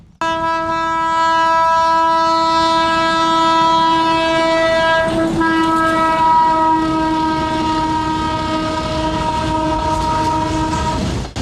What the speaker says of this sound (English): he's told we need to get off because there's a train coming